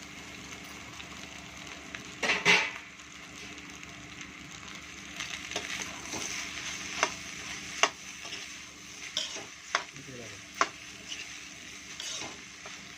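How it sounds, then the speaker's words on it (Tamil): Cooled cooked rice is stirred into egg in a home-cooking pan, a quiet, intermittent scraping and clinking of a spoon against the pan over a faint sizzle, with a few sharper metallic knocks. "போட்டு நல்லா கிளறி விட வேண்டியதான்"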